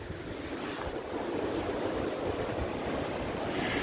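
Strong outdoor wind buffets the microphone on a cold, very windy day, a constant loud roaring rush that builds slightly over a few seconds with no talking.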